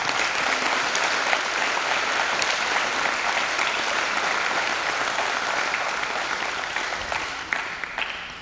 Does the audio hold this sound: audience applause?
yes